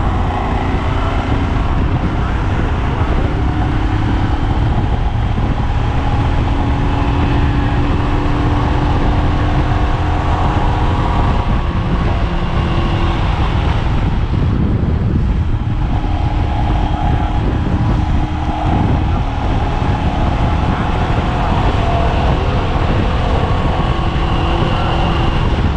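Continuous heavy wind roar on a motorcycle at speed with the helmet visor closed, a broad steady rush under the engine drone that stays loud and even throughout.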